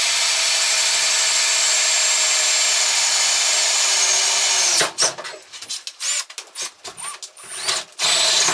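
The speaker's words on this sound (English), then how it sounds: "I've been drilling." Power drill running in a home shed workshop during work on a car center console, a steady close high whine for several seconds that then breaks into short bursts and stops, with no talking.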